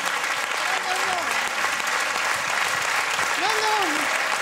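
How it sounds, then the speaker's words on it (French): Sustained, dense applause from a standing audience at a festival closing ceremony, steady and loud throughout, with a voice speaking over it. "Standing ovation en français dans le texte"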